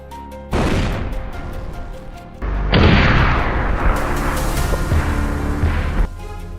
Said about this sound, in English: the sound of gunshots rang out sharply, decisively taking down the lone boar